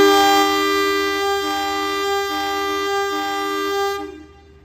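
The Sri Tanjung train departing Madiun station sounds a long, loud, steady horn blast with a few brief breaks, then fades out at the end, with no talking.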